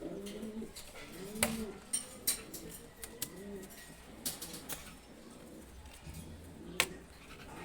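Racing pigeons at a nest pot coo in soft repeated rounds, the low throaty calls recurring through the clip with a few sharper flutters and clicks close by.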